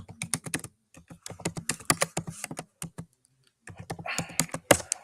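Typing on a computer keyboard runs in quick, close bursts of crisp key clicks, with short pauses between runs and one brief silent gap near the middle.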